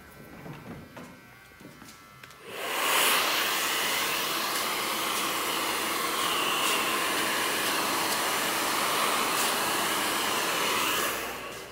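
A handheld hair dryer switches on and blows steadily at close range for about nine seconds, loud and continuous, during a men's pompadour haircut.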